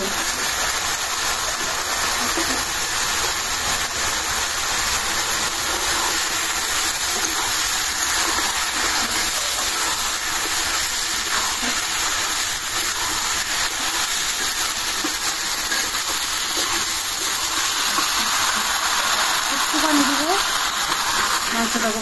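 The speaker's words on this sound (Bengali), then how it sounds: "মশলাটা কষানো হয়ে গেছে, এখন দিয়ে দিব মুরগির মাংস।" Chicken meat frying in a cooked-down spice masala gives a steady, dense hiss and sizzle that stays loud and even from start to finish, with faint stirring underneath.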